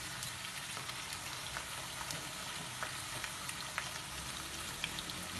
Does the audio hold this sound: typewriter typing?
no